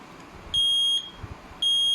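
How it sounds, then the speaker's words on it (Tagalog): A carwash vending controller on an ESP8266 board gives two sharp, high electronic beeps. The first lasts about half a second and the second starts near the end after a short pause, against a quiet background. "Pag 10 seconds na lang, mag-beep siya."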